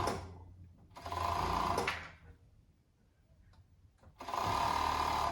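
Sewing machine closing a seam on winter pajamas, running in two long steady bursts separated by a quiet pause with faint handling noises, close and loud.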